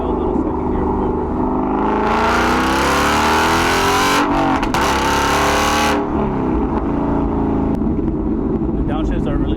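A Mustang GT with a Corsa Extreme exhaust accelerates hard in second gear, the engine note rising into a loud, raspy roar that peaks for several seconds, then drops back to a lower rumble as the throttle eases.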